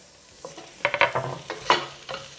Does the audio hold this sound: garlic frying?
yes